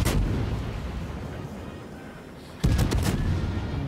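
Naval guns firing at the Bismarck in a warship video game, heavy booming blasts at the start and a loud burst of overlapping gunfire near the end over constant battle rumble.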